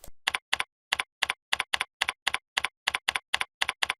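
Taps land on a phone app's on-screen keyboard as a steady run of about sixteen crisp clicks, evenly paced and close, with silence between them.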